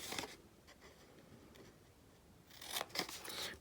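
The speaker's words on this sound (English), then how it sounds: "So we're just going to snip up each of these" Scissors snip the paper tabs of a gift bag in a few crisp cuts, one near the start and a cluster toward the end, close and fairly quiet with no talking.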